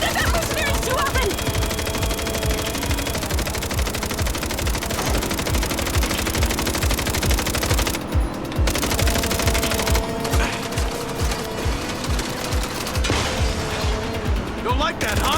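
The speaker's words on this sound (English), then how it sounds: "you don't hear about Saints firing machine guns at mercenaries too often!" Video game machine gun fire, rapid and dense, rattles almost nonstop, loud and close, with mechanical clatter and a few brief pauses, while voices talk over the gunfire.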